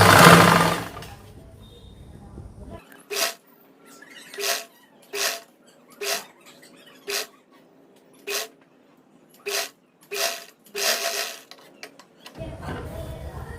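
A sewing machine stitching a dress top runs in about a dozen short, evenly spaced bursts, each a quick whirring run of stitches with brief pauses between. A voice is heard before and after the stitching.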